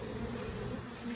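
Honey bees buzzing inside an open Layens hive during an inspection, a close, steady droning hum with a faint rising whine, fairly quiet and without talk.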